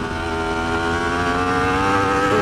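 A 2015-or-later Yamaha R1 superbike engine drones at steady high revs on a race track, a loud continuous buzzing tone held close throughout.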